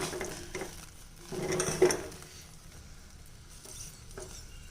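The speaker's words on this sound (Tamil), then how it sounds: "இப்போ நல்லா கிளறி விட்டு பார்க்கலாம்" Spoon scraping and stirring through thick cooked batter in a covered pan on low heat, soft intermittent scrapes with a louder burst of stirring and a clink midway, fairly quiet and close.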